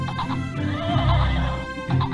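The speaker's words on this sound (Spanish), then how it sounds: "El caballo corre mucho." A horse whinnies loudly and close, with a harmonic, wavering call that swells in the middle and trails off, followed by a shorter second neigh near the end.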